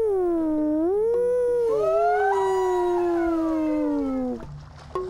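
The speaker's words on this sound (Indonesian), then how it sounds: "Aku akan buat paus itu bernyanyi" A cartoon whale sings in an animated children's show, a single loud, long, gliding tonal call that rises and falls smoothly like a howl, then fades out near the end.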